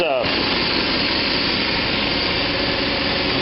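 A small engine on a 425 riding mower with a blade fitted starts up on choke and runs loud and steady, a dense near roar after a brief cranking at the start.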